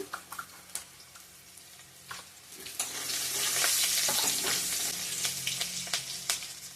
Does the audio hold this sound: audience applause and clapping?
no